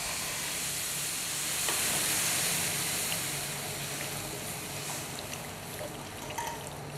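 Chicken broth poured into a hot pan for a risoles ragout filling, giving a steady broad sizzle with a watery hiss that swells briefly near the start and then settles, close and moderately loud, with no talking.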